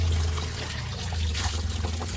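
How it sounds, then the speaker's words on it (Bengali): Water poured for washing the face, a steady soft trickle and splash close by over a low constant hum. "আর একটু মুখটা ধুয়ে নেবো।"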